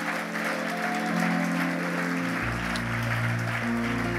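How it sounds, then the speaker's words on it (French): A church congregation applauding during a French-language service, broad steady clapping with sustained organ or keyboard tones underneath, a low bass note entering partway through as the clapping continues. "Est-ce qu'on peut applaudir le Seigneur Jésus ce matin?"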